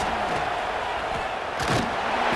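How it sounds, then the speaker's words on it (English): A large stadium crowd in the video game College Football 26 roars steadily and loudly throughout, a dense wash of cheering with brief louder surges and no clear voices standing out. "Listen to this crowd just shaking the girders of this place, trying to help their defense."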